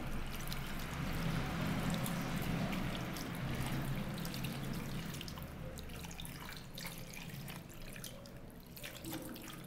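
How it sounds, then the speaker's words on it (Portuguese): Tap water runs steadily while a makeup brush is rinsed, a continuous splashing flow that eases slightly toward the end, with no talking. "Aí eu vou enxaguar."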